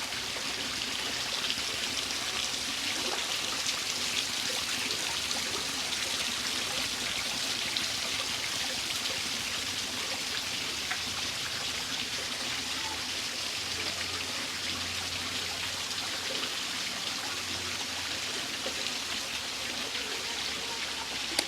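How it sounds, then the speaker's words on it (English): Continuous rushing splash of a garden waterfall in South Australia, steady and fairly close, with no pauses or voices. "Waterfall here."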